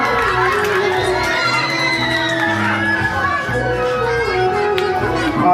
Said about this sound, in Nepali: कृपया जोरदार तालीले सहयोग गर्नुहोला।